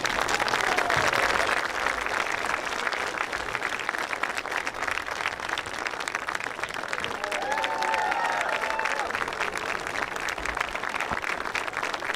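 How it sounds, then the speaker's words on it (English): A crowd at a high school football homecoming applauds the opening of a new stadium, with sustained outdoor clapping and cheering that continues steadily for over twelve seconds, while background voices and a whistle-like tone rise in the middle. "Please join me in a round of applause in opening this new stadium."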